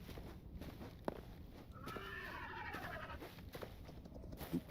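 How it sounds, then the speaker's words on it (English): A skeleton horse in the Hytale video game gives a faint wavering whinny amid soft hoof footsteps and quiet game ambience, with a few light clicks around it. "there's a skeleton horse over there"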